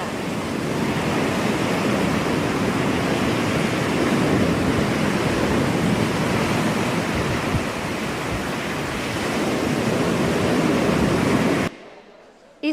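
Ocean waves make a steady, loud roar of surf with broad rushing noise and no pauses, cutting off abruptly near the end.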